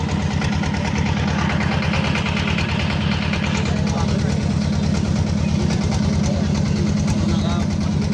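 A boat engine idles at a river ferry ghat with a steady low throbbing chug throughout, close and loud, with people talking faintly beneath it.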